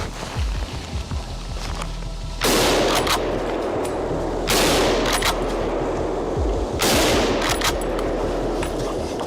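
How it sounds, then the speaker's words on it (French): Hunting rifle shots during a driven hunt outdoors, with three loud, sharp blasts spaced a couple of seconds apart, each followed by a rolling echo over a steady low background rumble. "Je vais tirer le premier si je peux."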